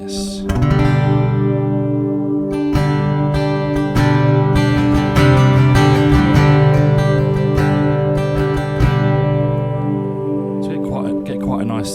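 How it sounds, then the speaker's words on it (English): An acoustic guitar runs through a NUX preamp with built-in chorus and reverb, strumming full, shimmering chords loudly and continuously, with a lush, washy sustain between strokes. "It goes into the NUX preamp, which has got a built-in chorus and reverb,"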